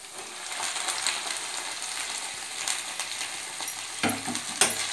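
Spinach sizzles after being added to onions and green chillies frying in a pan, a continuous bright frying hiss with scattered crackles and a few louder stirring scrapes near the end.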